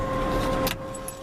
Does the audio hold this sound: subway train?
no